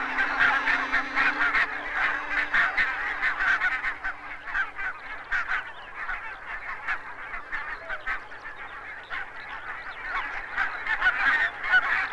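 Barnacle geese on coastal meadows, a dense flock honking and yelping continuously, loud and close, with overlapping calls and no talk.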